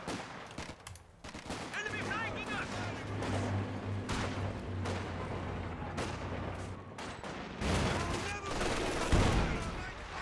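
Machine gun bursts in the real-time strategy game Company of Heroes 2, an MG suppressing an infantry section amid repeated gunfire and explosions, with scattered in-game voices.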